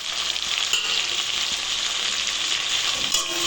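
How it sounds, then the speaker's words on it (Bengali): Chopped onion, green chilli, bay leaf and panch phoron fry in a pan for a Bengali prawn malai curry, giving a loud, steady, close sizzle with faint stirring scrapes and no talk. "দিয়ে পেঁয়াজটা একটু ভালো করে কষে নেব"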